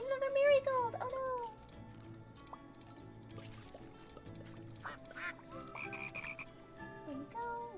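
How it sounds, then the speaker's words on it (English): Cute cartoonish frog croaks from a cozy capybara video game, several short ribbit-like calls repeating over soft background game music, with a voice talking briefly near the start. "I like the little frog noise that one makes."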